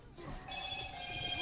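Mobile phone rings during a Gears of War 4 gaming stream, a steady electronic ringtone tone sustained through the clip with a voice talking faintly underneath.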